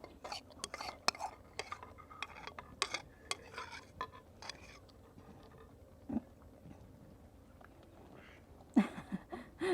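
Two spoons clink irregularly against a plate as a child eats rice in a village mud house: soft, scattered metallic taps with quiet murmuring voices, and a few sharper clinks near the end.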